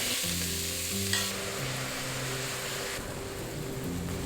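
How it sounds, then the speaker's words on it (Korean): Meat stir-fries in hot oil over medium heat in a pot for Japanese curry, a steady, dense sizzle alongside a low droning hum and occasional clinks from stirring. "중간 불에서 오일에 연기가 나기 시작하면 고기를 넣어서 볶아주시고요"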